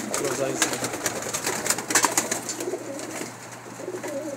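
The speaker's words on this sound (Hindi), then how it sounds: "आपको एक कबूतर दिखा रहे हैं" A pigeon coos softly and steadily under light background noise and occasional clicks.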